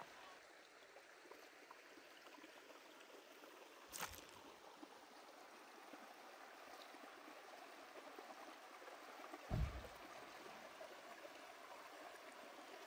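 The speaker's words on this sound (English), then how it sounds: "Oh, you got a nice little stream down here." A small, clear stream flows with a steady, soft rush near the Salt Creek Trailhead at Bear Canyon Campground, joined by a couple of brief louder splashes or knocks.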